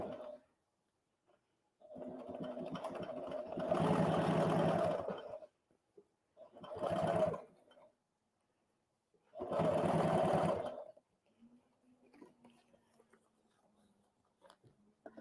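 An HD9 sewing machine stitches leather in three separate runs of rapid mechanical whirring, each stopping for a pause, with quiet handling noises between them.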